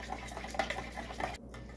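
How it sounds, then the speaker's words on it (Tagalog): About two ounces of hot water pours steadily into a homemade iced Spanish latte mix to dissolve it, a continuous soft liquid stream heard close up at low volume. "mag-add ako ng 2 ounces of hot water"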